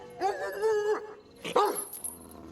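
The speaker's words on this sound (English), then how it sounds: "What is the problem with that dog?" A dog barks and yelps nearby in a TV drama scene, two or three sharp barks with a whine between, moderately loud, with no talk.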